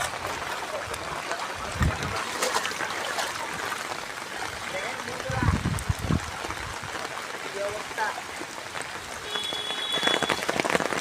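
Heavy rain pours as flood water rises. The noise is a dense, steady hiss with occasional splashing surges, and people talk intermittently over it.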